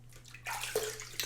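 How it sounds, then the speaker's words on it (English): Water splashes and trickles close by as a face is wetted in a sink before a shave, a short burst of sloshing over a steady low hum. "Get the face wet."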